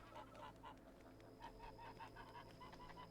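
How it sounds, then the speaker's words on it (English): A goose in The Witcher 3 video game honks repeatedly in a rhythmic series of short nasal calls, fairly faint, over a steady ambient background hum. "It's a goose."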